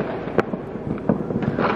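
Fireworks and firecrackers bang on New Year's Eve, several sharp cracks and pops at irregular intervals over a dense crackling background, some near and loud, others more distant.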